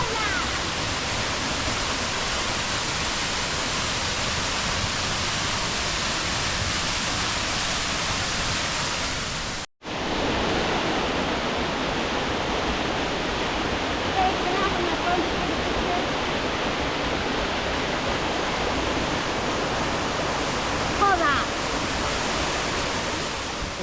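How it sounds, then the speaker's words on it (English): Paula Waterfall cascade at Cinchona Waterfall Park in Costa Rica roars as a steady, dense rush of falling water, loud and continuous, with a momentary break partway through. "Next stop at Cinchona Waterfall Park is Paula Waterfall Cascada."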